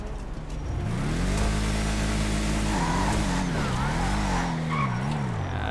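A car in GTA Online revs hard and accelerates while attempting a wheelie. The engine drone rises and falls steadily with tire squeal over it, loud and continuous throughout.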